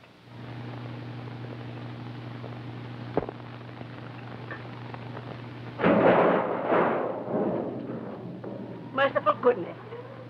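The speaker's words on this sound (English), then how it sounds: "There certainly is a bad storm blowing up." Thunder from a storm in a 1931 film rolls in as a heavy rumble midway through, over hissy old soundtrack noise, followed by a few short sharp sounds near the end.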